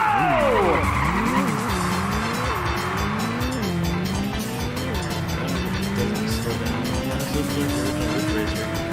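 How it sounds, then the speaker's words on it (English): A race car in the PlayStation game Original Ridge Racer skids hard with a long tire squeal, then revs repeatedly through rising and falling engine sweeps over continuous loud racing noise. "This car is way too fast."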